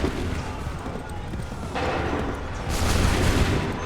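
Musket volley gunfire in an Assassin's Creed 3 battle cracks out as broad bursts, swelling near the middle and again louder toward the end, over a constant rumble of combat noise.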